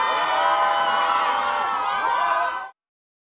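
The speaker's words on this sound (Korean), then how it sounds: "갑자기 객석에서 야유 소리가 터져 나옵니다" A large crowd at a K-pop concert in Kuala Lumpur booing and jeering, a loud, dense, sustained roar of many voices that cuts off abruptly near the end.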